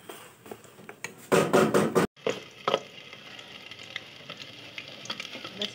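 Green food colouring being stirred into andarsa mixture with a spoon in a bowl, a burst of loud scraping strokes followed by quieter, irregular clinks and scrapes.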